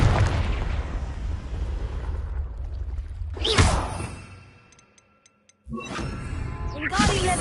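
In Hogwarts Legacy, a Confringo blasting spell sets off a booming explosion. A sharp burst is followed by rumbling, then a brief lull and a second loud blast, with a spoken voice nearby.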